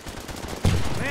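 A sharp burst of gunfire in the shooter game H-Hour: World's Elite on the crossroads map, cutting in abruptly after a quieter stretch with faint talk beneath, then ringing out briefly.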